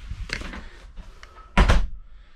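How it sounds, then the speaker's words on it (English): A door on the bathroom of a 2021 Coachmen Freedom Express 292BHDSLE quad bunk travel trailer is pushed shut, giving a sharp, close thump after some earlier handling noise, with quiet room tone around it. "shut the door, please."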